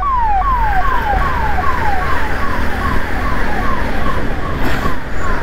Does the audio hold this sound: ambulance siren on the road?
yes